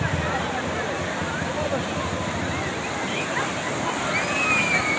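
Sea waves wash up on the shore at Ganpatipule beach in Ratnagiri, a loud continuous rush of surf and sloshing water, close by, with voices faintly mixed in.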